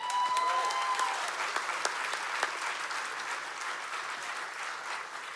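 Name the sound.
audience applause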